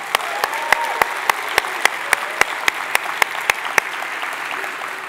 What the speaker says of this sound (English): Let's give a big round of applause to the organizers, the staff, and all of you attendees